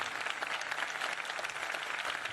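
Steady applause from an audience honoring María Elena Walsh fills the hall, dense and continuous throughout at moderate distance, with no voices over it.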